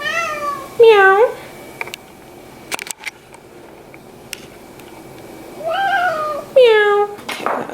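A cat meows several times, close and loud, in two clusters of drawn-out cries separated by quiet clicks and handling noise.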